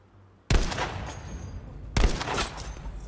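Gunfire in the shooter Battlefield 5, with two loud, sharp bursts of rapid shots, each starting abruptly and ringing out with a tail of echoing rattle.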